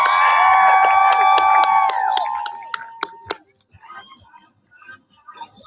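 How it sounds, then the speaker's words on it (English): An audience at a pride showcase closing ceremony cheers and whoops loudly for a performer, with a few sharp claps, before the noise drops away to scattered faint claps and murmurs. "Let's welcome to the stage a round of applause for Miss Nani"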